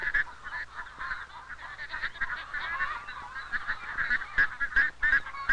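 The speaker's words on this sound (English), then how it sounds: "It was their pet duck that they had entered in the fair." A pet duck entered at a county fair poultry exhibit honks and calls repeatedly, fairly close, over a steady low background hum with no talk.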